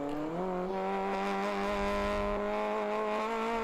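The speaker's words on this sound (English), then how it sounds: "You might hear just a little breathe of the throttle right there." Race car in ChampCar Endurance Series running at Road America through a very fast left-hander, the steady engine tone dipping slightly with a brief throttle lift, then holding loud and close without any voices.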